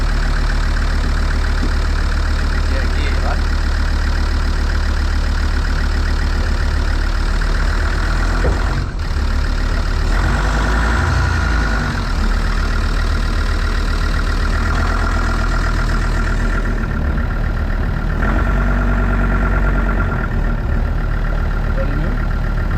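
A car engine idles steadily, then the car rolls under its own power with a low continuous rumble throughout, close by, while a few brief words are spoken over it.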